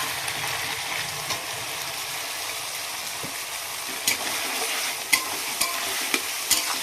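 Green chili, capsicum and chopped tomato hit hot oil with garlic paste for a chicken dish, a bright steady sizzle with occasional sharp spatula taps growing more frequent toward the end, close and unaccompanied.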